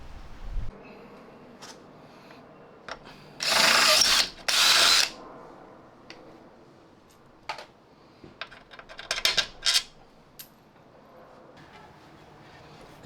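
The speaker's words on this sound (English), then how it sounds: "I'm gonna take a drill and enlarge it so the fastener can fit." A power drill enlarges a hole for a fastener while an intercooler is fitted to an E46 BMW M3, two loud whirring bursts of a couple of seconds each, followed by scattered clicks and tool handling nearby.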